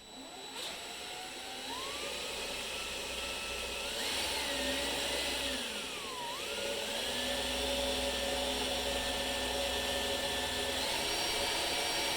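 Power drill boring holes in a snowmobile part for a Polaris Triple Ultra 680 oil line modification, a loud continuous motor whine that rises and falls in pitch as it loads up, steady and close, with no talking.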